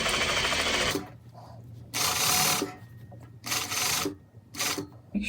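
A sewing machine top stitches a half-inch hem inside the cuffs of a T-shirt, running in short bursts of rapid mechanical whirring separated by quieter pauses.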